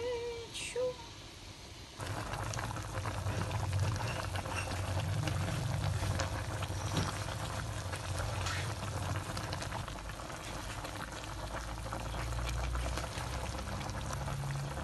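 Chicken gizzard adobo with peeled boiled eggs bubbling in a pot, a brief quieter moment then a steady close simmering and gurgling that fills the rest, with no clear talk.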